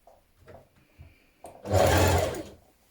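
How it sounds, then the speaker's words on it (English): A sewing machine stitching a ruffle to a dress skirt bottom, a short loud burst of fast mechanical whirring after a few faint knocks and handling sounds. "Now stitch your ruffle to your skirt bottom."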